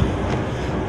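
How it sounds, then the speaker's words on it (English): Steady rumble of an approaching New Jersey Transit train, a dense low roar with faint rhythmic rail clatter, continuous and fairly close, no voices. "I hear the train coming."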